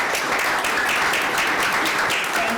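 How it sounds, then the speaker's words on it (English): A council meeting audience applauds an award recipient, steady dense clapping sustained throughout at moderate loudness. "We can give you a round of applause"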